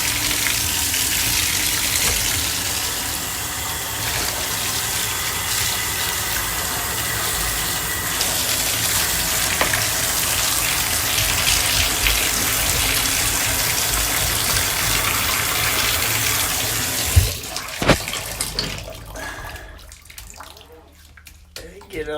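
Bathtub tap gushes water steadily while a cat is washed, a loud continuous rush that runs for most of the stretch before cutting off near the end, leaving quieter splashes and handling sounds.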